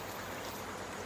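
Water splashing onto a rain sensor mounted above a clothesline on an automatic clothesline puller, a steady dense patter like rain spattering a surface, close and continuous with no talking.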